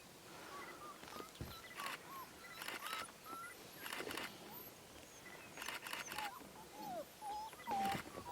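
African wild dog pups of the Pungwe Pack play around their den in the Manyeleti, giving faint whimpers, yips and squeaky calls in short bursts over a quiet outdoor background with distant birds.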